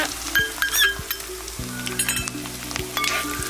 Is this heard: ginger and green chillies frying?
yes